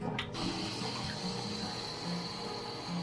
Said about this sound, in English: Okay, the water's boiling